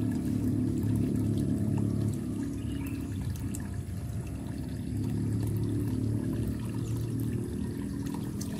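Water overflows from an aquaponics bucket during a siphon water change, pouring in a loud, steady, continuous splash close by with no pauses.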